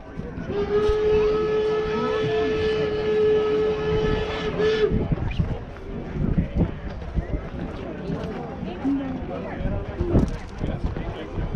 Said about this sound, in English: Now here comes the 119. It's our coal-burning locomotive.